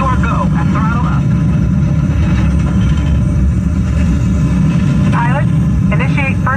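Rumbling rocket-launch throttle-up effect on the Mission Space Green ride at EPCOT, Walt Disney World: a loud, continuous low roar filling the whole clip, with faint warbling tones over it.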